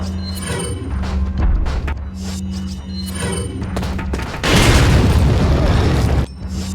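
A grenade blows up in Resident Evil 4 (2005) while fighting large enemies on the island, a heavy booming blast about halfway through after gunfire and game noise, with someone talking over it.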